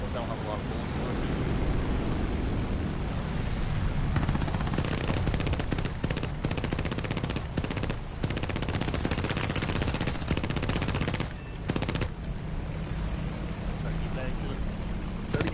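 Aircraft machine guns fire in War Thunder, long rapid bursts of dense rattling gunfire over a constant engine drone, loud and nearly unbroken, with short gaps between bursts.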